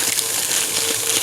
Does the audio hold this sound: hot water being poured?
yes